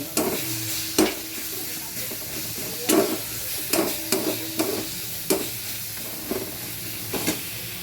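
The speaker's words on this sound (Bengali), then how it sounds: "রসুনটা ভেজে নিচ্ছি" Garlic fries in a pan for a home-cooked vegetable curry of carrots, beans, broccoli and potatoes, a steady soft sizzle under repeated sharp clinks and scrapes of a utensil stirring against the pan.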